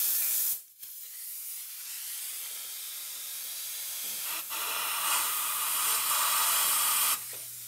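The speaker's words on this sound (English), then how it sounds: "we're gonna blow off any oil residue that we have inside" Compressed air blows oil residue out of the spark plug tubes of a Toyota Highlander engine: one short burst, then a long steady loud hiss that varies slightly before cutting off near the end.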